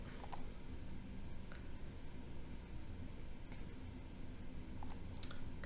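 A few sparse, faint computer mouse clicks, one near the start and a pair near the end, tap over a steady low background hiss.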